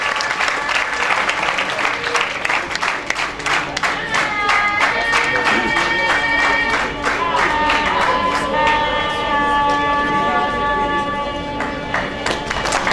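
Sustained loud applause and clapping from an audience at a Science Olympiad prize distribution, dense and continuous for several seconds while a voice talks over it and music or tones rise in the background.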